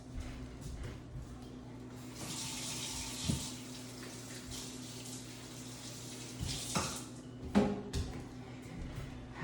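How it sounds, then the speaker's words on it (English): Water running steadily from a kitchen sink tap during handwashing, a continuous close rush with a few small knocks and splashes, no speech. "let me go wash my hands first"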